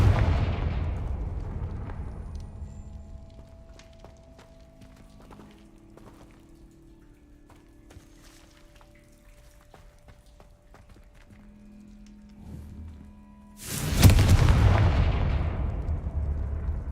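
A Confringo blasting spell explodes in Hogwarts Legacy, a loud burst that decays over a few seconds, then low game ambience with faint tones before a second sharp, loud explosion hits and rumbles on.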